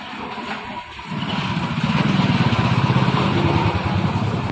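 A motorcycle approaches and passes close by on a road, its engine rising from a low rumble to a loud, steady drone that lingers as it goes past.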